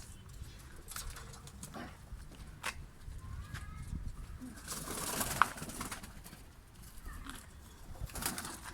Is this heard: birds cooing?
yes